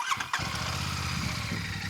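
A Royal Enfield 650 twin motorcycle engine cranks with a brief catch and then fires into a steady, throbbing twin-cylinder idle, loud and close throughout.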